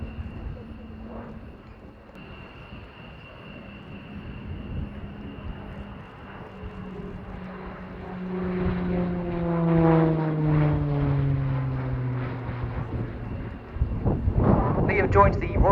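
A jet training aircraft flying display manoeuvres at an air show, a distant engine whine that swells and sweeps downward in pitch as it passes closer, with wind buffeting near the end.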